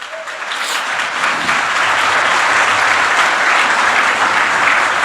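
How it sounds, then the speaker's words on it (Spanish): A church congregation breaks into loud, sustained applause during a sermon, dense clapping from many hands that swells in the first second and then holds steady and full for several seconds. "Aplauda a Cristo."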